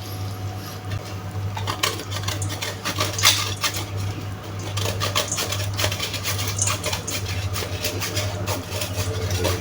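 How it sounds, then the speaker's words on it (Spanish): Grana Padano cheese grated by hand in a home kitchen for an escarole omelette, a steady dry rasping and scraping close up, with light clinks of utensils and dishes and a low hum underneath, no talking. "yo acá tengo un poco de grana padano, le vamos a rallar un poquito"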